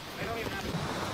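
Strong wind gusts during Hurricane Harvey, a dense, steady roar buffeting the microphone up close with no break.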